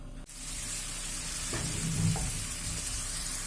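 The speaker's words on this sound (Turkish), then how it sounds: "İşte salçamızı kavurmaya başladık." A tablespoon of tomato paste fries in about a tea glass of oil in a pan, giving a steady, close broadband sizzle throughout after a sharp clank at the start.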